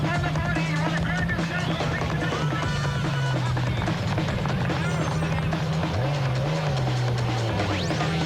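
Rally trucks including a Nissan Hardbody racing at the 2002 Sugarbelt 400 off-road event, engines droning and revving steadily close by with pitch swings as they pass, amid continuous crowd and ambient noise.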